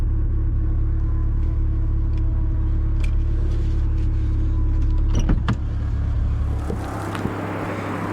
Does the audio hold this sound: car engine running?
yes